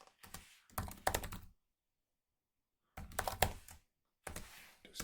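Bursts of typing on a computer keyboard, quick clustered key clicks in two or three runs separated by a pause of silence, close and fairly quiet.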